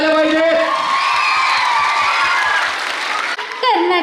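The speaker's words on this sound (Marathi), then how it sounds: "एकदा मीराताईंसाठी जोरदार टाळ्या झाल्या पाहिजे." An audience at a cultural programme bursts into loud, sustained applause with rhythmic clapping, cheers and whoops as a performer is called to the stage, and voices ring out over the clapping.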